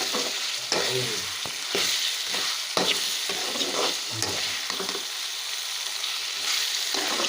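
Dried shark fish thokku stirred and frying in a pan, a steady close sizzle broken by repeated scraping strokes of the spoon against the pan, with no voices.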